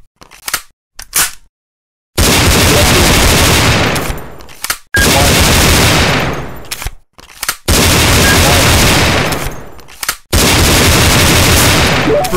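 Four long bursts of Desert Eagle pistol gunfire, each a loud sustained volley lasting about two seconds, separated by short silences, with a few brief clicks and shots at the start.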